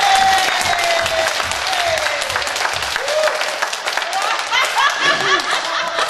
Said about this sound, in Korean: 하나님께 영광의 박수 한번 내주시겠습니다.